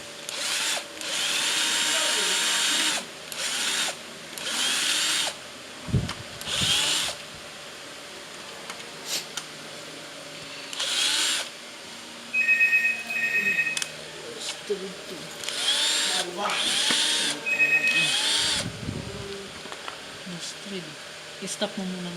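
A power drill drives screws into a dining chair being assembled, several loud whirring bursts of a few seconds each with pauses between them, while people talk nearby throughout.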